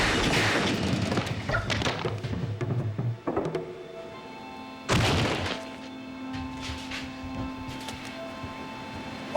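A gunshot in a TV police drama rings out as one sharp, loud crack partway through, after some earlier thumps and scuffles, then fades into a quiet room tone.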